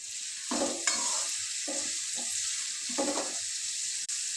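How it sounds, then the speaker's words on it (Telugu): Onions fry with salt in a pan: a steady sizzle runs under several short scraping stirs of a spatula, loud and close. "నేనైతే ఇక్కడ తొందరగా ఆనియన్స్ మగ్గడానికి కొంచెం సాల్ట్ వేసుకుంటున్నాను."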